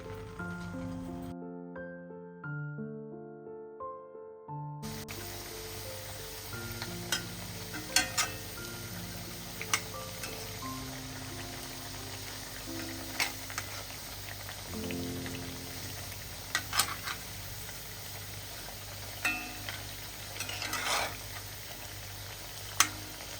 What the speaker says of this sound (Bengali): যে বড়াগুলো ভেজে বানিয়ে রেখেছি সেগুলোকে ছেড়ে দিয়েছি ভাজার জন্য